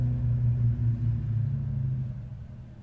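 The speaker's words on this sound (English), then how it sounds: "My noisy neighbor with his truck." A neighbor's truck rumbling close by, its deep low engine drone steady at first and then fading toward the end, with no talk over it.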